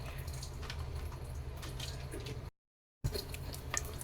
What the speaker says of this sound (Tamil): இப்போ பாருங்கள், கடுகு நல்லா பொரியுது.